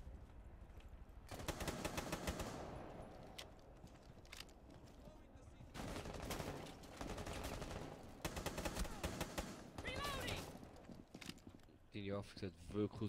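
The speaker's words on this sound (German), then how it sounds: "Dort aus dem Fenster hat einer geschossen." Gunfire rings out from a window in a German-language livestreamed video game, loud broadband bursts in several clusters spread across the scene, mixed with in-game clatter and players talking over it.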